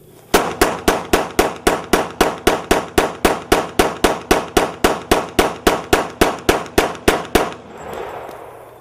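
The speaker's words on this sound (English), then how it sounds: "That was a Glock 21 mag dump." Glock 21 pistol fired offhand in a full magazine dump, about twenty-five sharp, loud shots in a fast, even rhythm, followed by a brief echoing tail.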